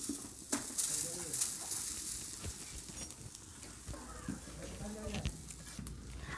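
Grated coconut is stirred in a hot wok, with a soft sizzle and scraping strokes of the spoon against the pan, under a voice speaking nearby.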